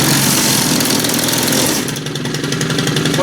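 A STIHL FS90R or FS111R string trimmer engine runs loud and close, a steady buzzing two-stroke drone with only a slight dip in level partway through.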